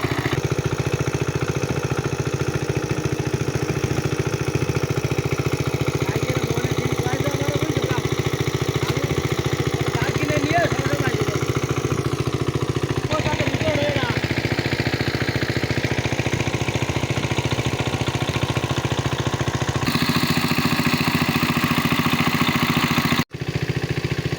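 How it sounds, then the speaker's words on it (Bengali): Two engine-driven water pumps run together to drain a fish pond in a village, giving a steady, loud, droning mechanical hum that continues unbroken for over twenty seconds, with a brief cut near the end. "এই ঘের অতি দ্রুত শুকানোর জন্য দুইটা মেশিন একসাথে চালনা করা খুব জরুরি"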